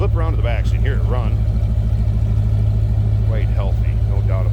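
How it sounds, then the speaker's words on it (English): Engine of a 1990 Chevrolet Corvette ZR1 runs steadily, heard from behind the car as a close, loud, low idle with a continuous pulsing throb while someone talks over it. "slip around to the back so you can hear it run."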